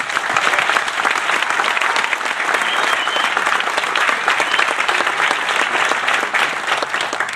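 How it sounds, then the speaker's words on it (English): Crowd applause at a NY Metro Ride for Kids charity event, a dense, continuous clatter of many hands clapping, loud and sustained throughout with no pause, a faint cheer mixed in. "How about a big round of applause for you?"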